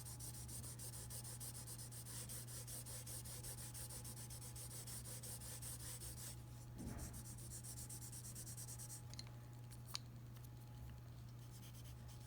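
Pencil graphite blended on paper with a tortillion blending tool, a faint, steady soft rubbing and scratching that runs continuously at close range.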